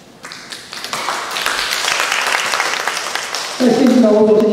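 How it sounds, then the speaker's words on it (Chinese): An audience applauds for a professor at a university anniversary event, clapping building from scattered taps into sustained loud applause, with a voice briefly heard near the end. "我们给彭教授一个掌声"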